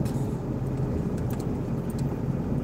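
Busy night road traffic in Siem Reap hums continuously nearby, with engines rumbling and a few higher passing-vehicle whines on top.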